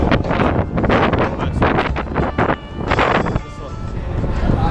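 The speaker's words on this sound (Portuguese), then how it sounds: "Tem um lugar no metrô que tem muito vento, não sei porquê." Strong gusting wind roaring through an underground São Paulo metro station, buffeting the microphone continuously in loud rumbling waves, with people talking over it.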